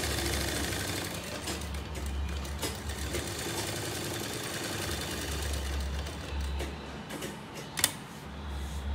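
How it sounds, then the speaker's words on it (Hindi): A tailor's sewing machine stitches kurta fabric with a fast, steady mechanical whirr and rhythmic ticking. It runs close and continuously, with brief stops and one sharp click near the end. "सिलाई देखिए कैसी लगा रहा हूँ"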